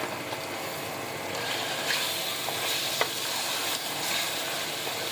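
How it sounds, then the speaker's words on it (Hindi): Broad beans (sem ki phali) fry in a pan over medium heat with a dense, steady sizzle and crackle, close and fairly loud, with a few faint scrapes of stirring and no talk. "इसको तकरीबन आधे मिनट के लिए हल्के आंच से और मीडियम आंच में भून लेंगे इसे"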